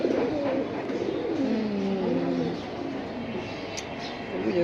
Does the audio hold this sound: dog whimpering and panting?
no